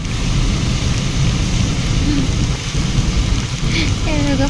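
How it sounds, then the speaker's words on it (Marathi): Heavy monsoon rain pours near Neral on the way to Matheran, a loud, dense, constant wash of falling water with a low rumble beneath it. "हे बघा पाऊस."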